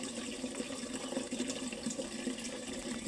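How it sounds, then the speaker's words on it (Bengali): Water runs from a tap for watering plants, a faint, steady trickling wash that continues evenly throughout without talk. "ট্যাপটা বন্ধ করে দিলাম।"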